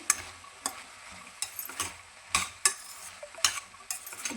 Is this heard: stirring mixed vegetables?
yes